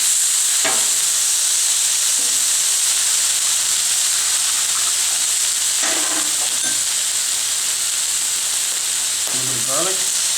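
Shrimp and butter sizzle steadily on a Griddlemaster griddle, a constant loud hiss with a few brief clatters from a utensil scattered through it.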